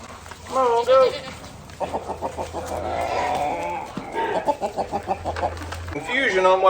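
Goats bleat in short rhythmic bursts alongside a few wavering cries, fairly close, while a person calls to the herd in between and a steady low hum runs underneath.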